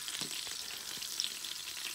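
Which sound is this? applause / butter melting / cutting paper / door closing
butter melting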